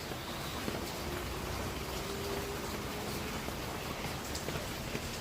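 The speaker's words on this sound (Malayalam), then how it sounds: "നല്ല മഴയാണ്" Heavy rain falls in a steady, even hiss with scattered drops pattering on nearby surfaces, continuous throughout and heard without any talk.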